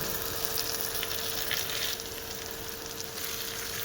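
Mustard paste frying with potatoes in a pan, a constant quiet sizzle with a few light scrapes of stirring, close and steady, with a thin steady hum beneath and no voices.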